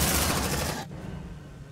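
Suppressing gunfire rattles out in Aliens: Dark Descent, a loud dense burst that cuts off abruptly partway through and leaves a low, quieter rumble behind.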